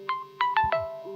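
A phone alarm rings with a short electronic melody of four bright, clear tones over a steady hum, close and loud, with no voices.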